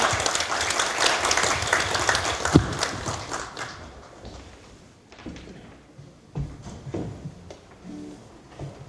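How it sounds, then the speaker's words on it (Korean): Audience applause at a small concert held at a hospital, fairly loud for the first few seconds, then fading into scattered claps, thumps and quiet room noise. "박수 한번 좀 보내주십시오"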